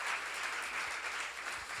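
Congregation applauding during a church sermon, a steady wash of many hands clapping together, somewhat distant and even throughout.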